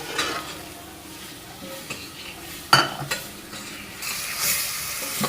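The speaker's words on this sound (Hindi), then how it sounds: "अब चम्मच मुसलसल चलाते रहेंगे ताकि टमाटर में भी मसाला आ जाए" A spoon stirs frying masala with tomatoes in a pan for chicken macaroni, making scraping knocks over a continuous sizzle, with one sharp clack midway and a louder hiss toward the end.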